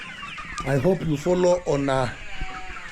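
Improved Kienyeji chicks and chickens cluck in a poultry house, several close, clear bursts of clucking in the middle of the stretch. Someone speaks briefly over the birds.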